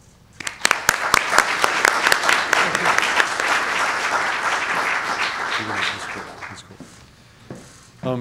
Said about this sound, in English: please give a warm round of applause for President Skorton